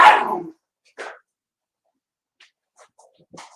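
Puppies bark, starting with one loud, close yap and a shorter second bark, then faint scattered yips and whimpers in near silence.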